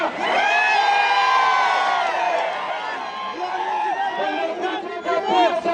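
A crowd at a political rally in Pandharpur shouts, whoops and cheers loudly, with many overlapping voices that rise and then break into scattered calls.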